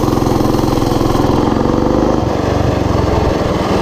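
A Coleman BT200X mini bike's small engine runs steadily and loud throughout, a close, even buzzing drone with a slight shift in pitch partway through and no talk over it.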